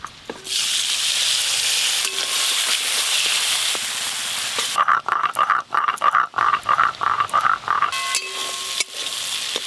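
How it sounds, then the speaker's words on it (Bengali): Loud sizzling in a pan, joined midway by rapid bursts of popping and crackling as small shrimp fry, close up. "এবার এই কুচো চিংড়ি মাছগুলো ভালো করে ভেজে নেব।"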